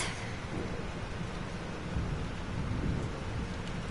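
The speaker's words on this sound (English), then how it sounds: "This storm is real." Thunderstorm in the video game Life is Strange: steady heavy rain hiss with deep rolling thunder swelling midway and again near the end, no voices.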